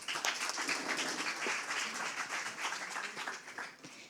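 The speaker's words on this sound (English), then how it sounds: "So please, round of applause for Sophia." An audience at a conference talk claps for an arriving speaker, a fairly faint, steady wash of many hands that tapers off at the end.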